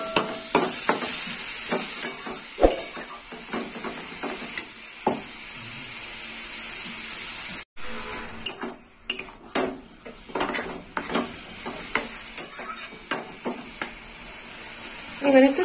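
Masala radish fry stirred in a pan with a utensil: repeated scraping and clinking of metal against the pan over a steady frying sizzle, close and fairly loud, with irregular knocks and a brief pause midway.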